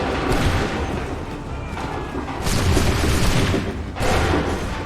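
Naval cannon fire in Assassin's Creed 3 Remastered, heavy booms repeating among a thick wash of battle noise, with rolling rumble and several distinct blasts close together.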